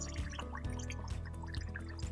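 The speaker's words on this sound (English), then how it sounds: "dunk it in the water" A gas-filled airsoft GBBR M4 magazine held under water in a bowl, leaking gas that bubbles and gurgles in a steady stream, with soft pulses repeating about twice a second over a low hum.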